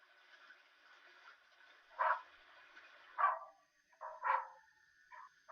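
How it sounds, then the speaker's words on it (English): Several dogs bark in short separate bursts, some single and some doubled, fairly distant and not loud, over a quiet background in a Lego Castle animation. "The dogs are getting hungry, sir."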